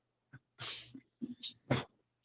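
A caller sneezes sharply over a phone line on a live radio call-in show, two loud bursts separated by short breaths and faint sniffs, heard through a thin telephone connection.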